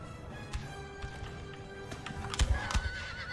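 Horse neighing and hoofbeats in the Napoleon: Total War battle game with the DarthMod mod, a whinny rising over a steady clop of hooves, with a couple of louder thuds late in the clip, all against a busy battle din.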